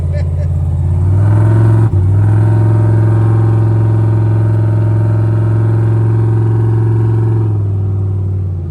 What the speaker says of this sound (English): It's a race car.